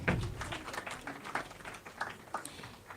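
An audience at the YouLead Summit 2024 applauds, a moderate, steady patter of many hands clapping that runs throughout at a middle distance without pause.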